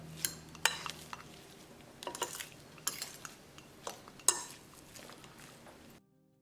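Two forks scrape and clink against a bowl, working a raw chapli kebab lamb patty mixture with onion and tomato. The taps come in an irregular, fairly close rhythm, without talk, before the sound cuts out.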